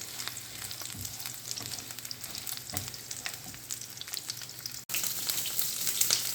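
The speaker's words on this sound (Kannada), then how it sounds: "ಫ್ರೈ ಮಾಡ್ಕೊಳ್ಳೋಣ." Ridge gourd frying in a pan for a Bengali-style chutney gives a steady, close sizzle with occasional stirring scrapes and a brief break before the hiss resumes, no one talking.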